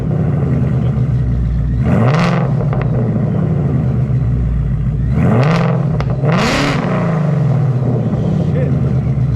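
A boosted Ford Mustang with an AWE Track exhaust and H-pipe revs up in deep, throaty bursts, three surges rising and falling over a steady low rumble, with a person talking over it.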